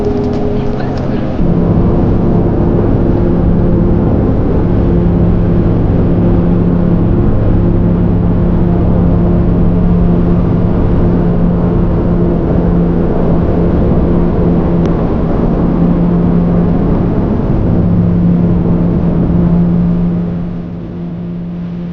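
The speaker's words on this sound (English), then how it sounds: "The hum of the engines was the sound of dreams lifting off." The engines of a tiny plane flying toward the Himalayas give a loud, constant droning hum throughout, then ease slightly at the very end.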